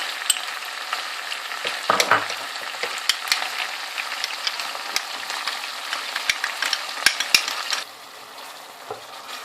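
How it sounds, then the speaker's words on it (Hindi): Chicken nizami fries in a pan with yogurt masala while it is stirred. A close, continuous sizzle is punctuated by sharp scrapes and clacks of a utensil against the pan, and a quieter hiss remains near the end. "अब मैंने मिक्स कर दिया और मैं इसको इसी तरह बगैर ढक्कन दिए इसको मैंने भूनते भूनते इसको ख़त्म करना है"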